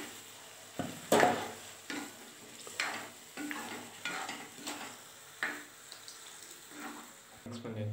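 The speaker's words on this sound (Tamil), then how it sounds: "இதில் எண்ணெயில் கத்திரிக்காய் நல்லா வதங்கிடுச்சு." Brinjal fries in oil for kuzhambu, a soft sizzle under a series of scraping, clanking stirs of the pan at irregular intervals, fairly quiet overall.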